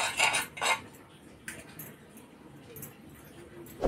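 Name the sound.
appe pan placed on stove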